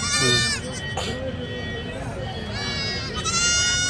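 Goat kids for sale at Kadiri's Tuesday goat and sheep market let out repeated wavering bleats, near and clear at the start and end, with people talking over the market bustle.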